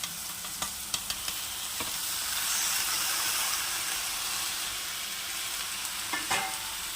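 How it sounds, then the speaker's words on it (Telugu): Sliced okra fries in oil in a pan for a tomato curry, a steady close sizzle and hiss with a few sharp scrapes and taps as it is stirred, and no talking. "మళ్ళీ బెండకాయతో ఫ్రై అవుతుంది కదా"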